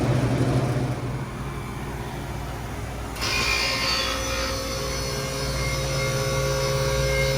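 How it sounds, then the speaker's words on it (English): A freezer's condenser fan motor runs with a steady, loud mechanical hum and whir, a continuous drone that shifts to a brighter, harsher tone partway through and keeps going without pause. "it looks like the old condenser fan motor choked again"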